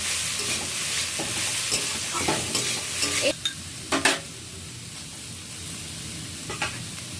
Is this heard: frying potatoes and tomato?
yes